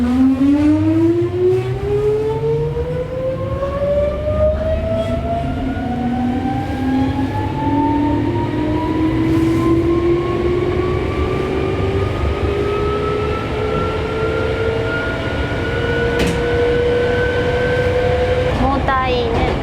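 A Hankyu Railway train's traction motor whines steadily, its pitch climbing as the train accelerates, over a constant rumble of the wheels and car in motion, with the sound continuous and loud throughout.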